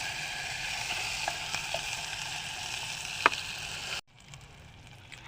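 Chicken frying and being stirred in a pot for biryani, a steady broadband sizzle with a few scraping clicks, which drops away sharply near the end to a quieter hiss.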